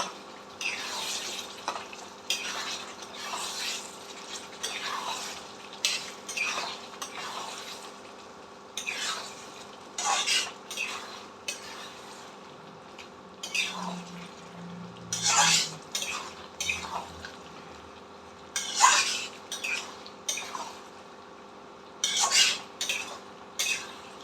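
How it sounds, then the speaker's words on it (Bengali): Mutton being sautéed and stirred in a pot for a mutton curry: repeated metal scrapes and clinks of a spoon against the pot over a low sizzle, close, in uneven bursts. "এটাকে খুব ভালো করে কষে নিতে হবে।"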